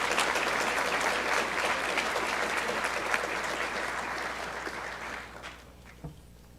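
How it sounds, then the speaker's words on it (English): Audience applause fills an honors awards night at a college, a dense, steady clatter of many hands that gradually thins and fades out toward the end, with a faint voice near the close. "let's get a round of applause for our seniors."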